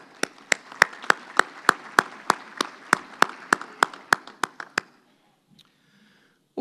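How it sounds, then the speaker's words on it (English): Steady rhythmic clapping at a Chamber of Commerce monthly luncheon, about fifteen sharp, evenly spaced claps from what sounds like a small group, lasting roughly five seconds before it stops and the room falls nearly silent. "So a big round of applause for our ambassadors."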